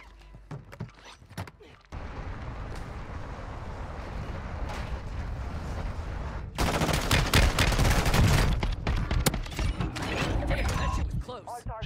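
KV Broadside shotgun with fire loadout blasting in Warzone: a sustained roar of firing and burning noise after a short quiet stretch, growing louder and harsher near the end with scattered sharp shots and clanks.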